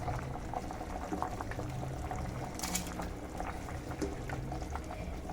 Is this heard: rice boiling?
yes